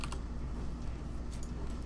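Rapid, steady typing on a computer keyboard, close and fairly loud, with a continuous patter of key clicks and a few sharper strokes, no voices.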